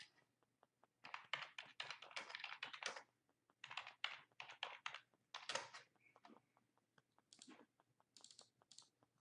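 Bursts of rapid typing on a computer keyboard, close and fairly quiet, coming in uneven runs of clattering keystrokes with short pauses between them and no talking.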